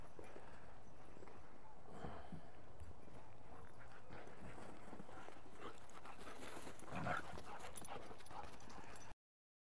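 Dog wearing a support harness for joint and hip therapy runs and plays outdoors, paws clip-clopping steadily with panting and a brief whimper, wind and scattered talk beneath.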